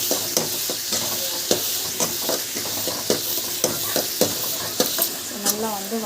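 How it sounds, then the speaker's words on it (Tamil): Onion, garlic and curry leaves sautéing in a pan for a village-style dried fish curry: a continuous loud sizzle broken by regular scraping strokes of a spoon against the pan. "இது வந்து பார்த்திங்கன்னா கருவேப்பிலை பூண்டு வெங்காயம் மூணு வந்து ஆட் பண்ணி நல்லா வந்து வதக்கிக்கலாம்."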